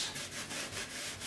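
A sponge with Murphy's Oil scrubs greasy kitchen cabinet surfaces in quick, rhythmic back-and-forth rubbing strokes, close and fairly quiet, about five strokes in a little over a second.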